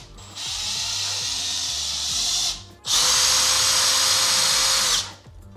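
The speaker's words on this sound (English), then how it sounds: "So, I would drill that out." A power drill whirs in two close, loud bursts: one run of about two seconds, a brief pause, then a second, stronger run.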